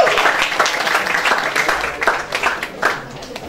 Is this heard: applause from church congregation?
yes